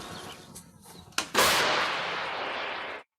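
A Bohdana 155mm towed cannon fires during training, a sharp, loud blast that rolls into a long, roaring decay lasting nearly two seconds, with a smaller crack just before it.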